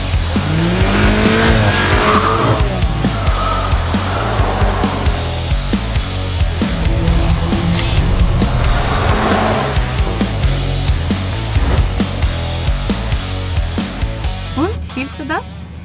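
A car driven at the limit on the Contidrom tire test track, loud engine and tire noise throughout with repeated squealing and skidding, while people talk over it.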